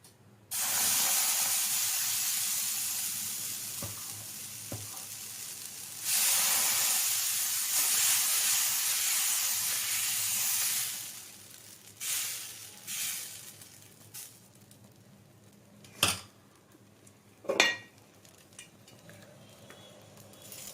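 Loud, steady hiss of dosa batter sizzling on a hot griddle in two long stretches, followed by quieter clinks and scrapes of a utensil.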